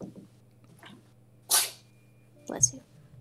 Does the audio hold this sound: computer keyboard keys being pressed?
no